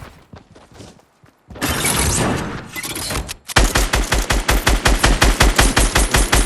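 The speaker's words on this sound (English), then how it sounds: "Grenade launcher." Rapid gunfire from a grenade launcher in a shooter video game: a dense burst of blasts, then a steady run of loud, evenly spaced thumping shots close up, with no talking.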